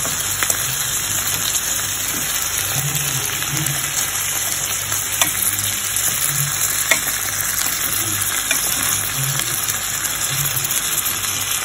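Tomato fries in a pan with a steady, bright crackling sizzle like light rain, continuous and close, with occasional soft stirring thumps and no talk.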